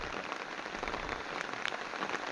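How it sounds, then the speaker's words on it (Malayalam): Steady monsoon rain falling on a farm planted with pepper vines on drumstick trees, a dense even patter of drops on surfaces, fairly soft and without voices. "ഞാറ്റുവേലിക്ക് നല്ല മഴയുണ്ട്"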